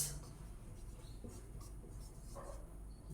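Pen or chalk scratching out a sentence during a grammar lesson, a continuous soft scraping with small strokes and pauses, close and quiet with no talking.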